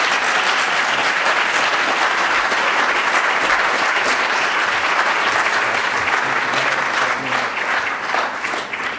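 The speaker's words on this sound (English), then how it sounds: "Let's give Mr. Gary Parker a round of applause." Sustained loud applause from an audience at a campus speaker series event, dense even clapping that continues for about nine seconds and only slightly thins toward the end.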